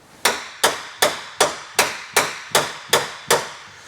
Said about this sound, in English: So what I'm trying to do there is actually warp them the other way so it pulls square.